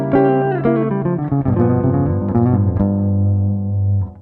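An electric guitar plays a blues lick built on double stops, with bending two-note phrases and slides ending on a sustained ringing chord. It is loud, close and clean, with no voices.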